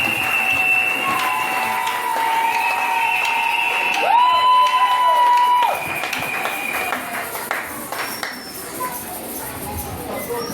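Crowd cheering and applauding at a diploma award ceremony, a loud continuous mix of shouts, claps and whistles with voices talking through it.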